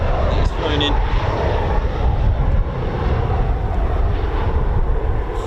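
A Eurofighter Typhoon FGR4 flying at night: a loud, sustained low jet roar with rumbling turbulence that holds steady across the clip, heard from outdoors.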